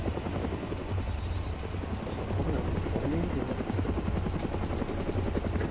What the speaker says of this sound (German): hier ist ein Heli